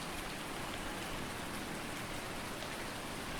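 Steady rain falling on a grey outdoor day in a wooded area, a dense continuous hiss of drops close by with no breaks and no voices.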